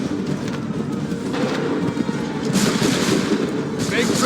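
Musket volleys crack out in Assassin's Creed III game combat, with dense rolling gunfire and rumbling blasts layered over shouted battlefield commands, growing heavier toward the end.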